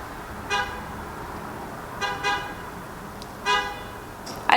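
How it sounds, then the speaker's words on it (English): Car horns honk outside a Dallas apartment: a short blast, then a double toot a second and a half later, then another single honk, all somewhat distant over a steady low traffic hum. "I don't think I've filmed a YouTube video yet in my Dallas apartment that didn't have people honking while I'm recording"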